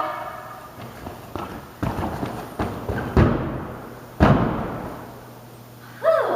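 A gymnast lands a round off back handspring back tuck, heard as a series of thumps and thuds from the round off and handspring, then a heavier landing impact with a few stepping thuds after, moderately close with no talk.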